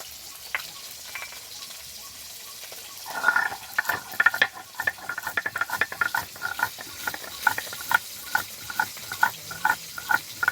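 Pieces of snakehead fish frying in a pan for a curry, a quiet sizzle that breaks into irregular popping and spattering after a few seconds and keeps crackling steadily.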